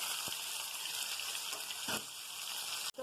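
Tempering seeds and crushed green chillies sizzle in hot oil for mango pulihora, a steady close crackling hiss with a few brief stirring clicks and a short drop near the end.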